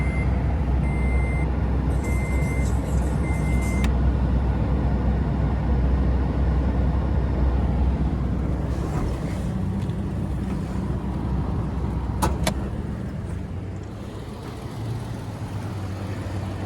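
Car engine idling steadily with the hood open, a constant low rumble throughout, with a few electronic beeps near the start and brief clicks later on.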